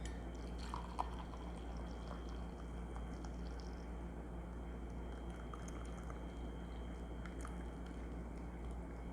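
Cold brew coffee decanted from a French press after a 14-hour steep, a faint steady trickle and pour of liquid with scattered drips, quiet and continuous.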